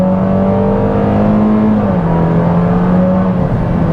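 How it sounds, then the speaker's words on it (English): A 2021 Toyota Corolla SE in sport mode accelerates hard, its engine note holding a steady, loud drone that shifts down in pitch partway through as it upshifts, heard from inside the car with no talking. "as soon as I just put the gas, whoa, actually makes some noise"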